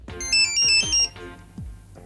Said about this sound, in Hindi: गृह मंत्री का फोन है।